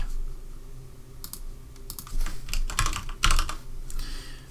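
Rapid bursts of typing on a computer keyboard while an animation event field is filled in, the clicks near and clear in irregular clusters with brief pauses between runs.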